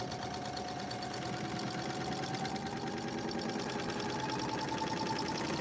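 A serger overlock machine runs continuously, sewing a double seam while trimming fabric, with a fast, even mechanical chatter and hum that stays close and steady without pauses.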